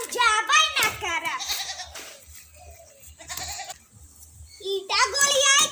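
A goat bleats repeatedly in wavering, nasal calls, loud and close outdoors, with pauses between bursts and people's voices mixed in around the bleats.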